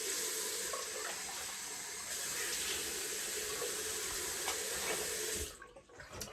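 A safety razor is rinsed under a running bathroom tap, a steady hiss of flowing water that splashes evenly for about five seconds and then cuts off, leaving a few quiet drips.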